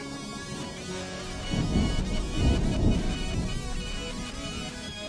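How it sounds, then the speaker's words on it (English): Thunder rumbles in a low swell during a thunderstorm on a music album, with rain-like hiss and musical tones underneath and no talk. "Got a thunderstorm coming in."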